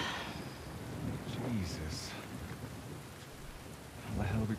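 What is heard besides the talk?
thunderstorm with rain and thunder in The Last of Us Part II video game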